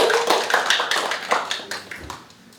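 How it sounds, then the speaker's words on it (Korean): A small lecture audience at a local arts talk gives a short round of clapping, sparse, distinct hand claps close by that thin out and fade toward the end. "다시 서점에 대해서 다시 박수를 좀"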